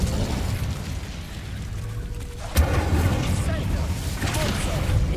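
Incendio fire spell cast in Hogwarts Legacy, a sudden loud burst at mid-clip that leaves a roaring rumble behind it, over a busy layer of game sound.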